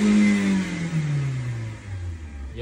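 A Toyota Rush engine revs to about 4,000 RPM while the vehicle stays put, a steady mid-pitched whine that slowly falls away. It is close and fairly loud, with no talk over it.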